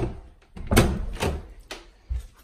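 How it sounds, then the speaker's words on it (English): A door being opened indoors at home: a series of close, solid clunks and rattling knocks, with a final thump near the end and a quiet room around them. "Open the door."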